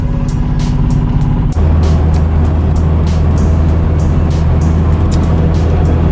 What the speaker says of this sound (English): We'll go for a little test drive.